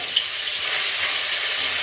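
Tomato pieces dropped into hot oil, cooked with cumin seeds, giving a steady bright hiss and sizzle throughout with no talk.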